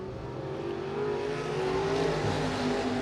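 Modified race cars scream around the track at Willamette Speedway, a loud continuous engine roar with pitch rising and shifting as cars pass close by, without any talking.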